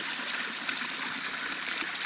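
Pure spring water from a mountain spring in Colorado feeding a micro hydro system flows steadily, a close, continuous trickling and babbling stream with no voices.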